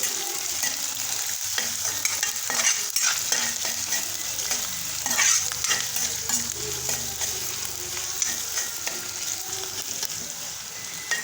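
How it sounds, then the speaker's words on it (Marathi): Chopped onion frying with garlic for a chana dal bhaji sizzles steadily while being stirred, with repeated scraping strokes over a constant close hiss. "मस्तपैकी कांदा आपल्याला गोल्डन ब्राऊनवर भाजून घ्यायचा आहे छानपैकी आपण भाजून घेऊत कांदा"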